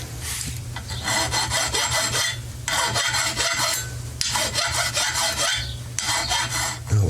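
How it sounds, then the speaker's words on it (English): A hand file rasps burrs off a part of a Briggs 5hp horizontal flat head engine, loud close strokes in four long back-and-forth passes with short pauses between them. "Let's just get rid of these burrs here."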